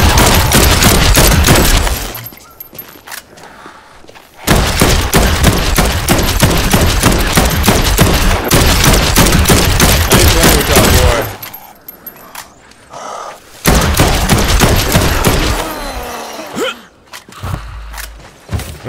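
Heavy gunfire in the zombie game Dead Island 2, loud sustained bursts of rapid shots in several long volleys separated by brief pauses, close and dominant.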